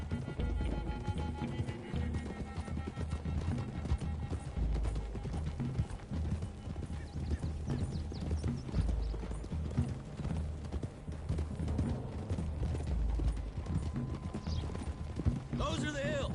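Horses' hooves clip-clop steadily at a riding pace in Red Dead Redemption 2, a busy continuous rhythm with voices and game sounds layered over the whole stretch.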